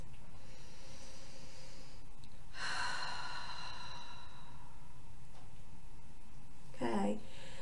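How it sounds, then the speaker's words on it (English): Two deep breaths during an EFT tapping relaxation session, a soft close inhale followed later by a brief audible exhale, quiet and alone. "some nice deep breath."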